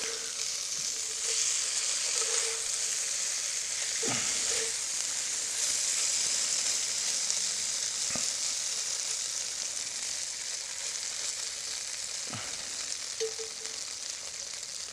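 Venison pieces browning in a hot cast iron pot for stew fry with a steady, close sizzle and crackle, broken by a few sharp pops and spits, with no one speaking over it.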